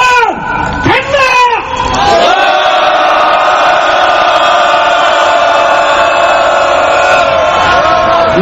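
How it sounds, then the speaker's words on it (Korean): Rally crowd outside Seoul Station protesting government university restructuring lets out a loud, sustained collective shout that swells after a brief ragged start and holds steady, close and forceful. "힘찬 함성 30초간 간다!"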